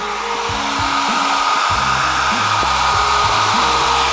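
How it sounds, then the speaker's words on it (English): A hair dryer runs steadily at close range, a loud continuous whirring blow with a low motor hum and faint shifting tones underneath. "So I went and got this and plugged the hairdryer into it."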